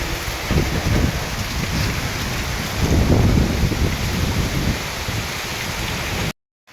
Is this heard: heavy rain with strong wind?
yes